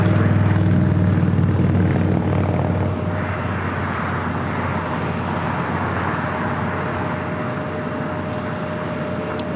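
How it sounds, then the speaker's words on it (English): An Airbus A321 airliner taking off from LAX bound for Toronto, a loud, steady broadband engine roar with a low rumble that holds evenly throughout, with no talking. "786 taking off to Toronto on an A321"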